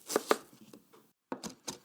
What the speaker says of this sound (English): You may need to use a back and forth motion on the downward cut to help the blade slice through the food.